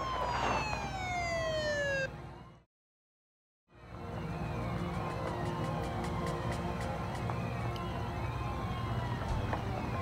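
A Seattle police patrol car siren wails with rising and falling sweeps, breaks off in a brief silence, then returns over steady traffic and road noise.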